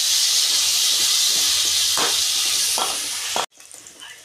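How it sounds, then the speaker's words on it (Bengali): Potatoes fry in hot oil with a loud, constant sizzle, broken by a few scrapes of a spatula stirring in the pan, then cut off abruptly. "আলুগুলো আমি লাল লাল করে ভেজে নেব।"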